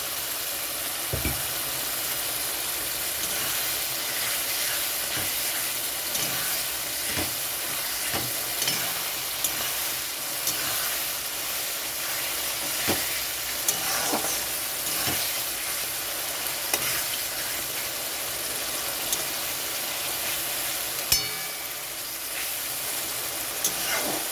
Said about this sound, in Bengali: এখন আমি ভেজে রাখা উচ্ছেগুলো দিয়ে দিচ্ছি।